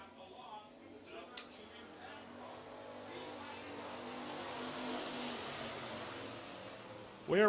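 Street stock race cars idle and rev while rolling into tight formation before a heat race, a steady engine drone that swells and builds, with a sharp click early on.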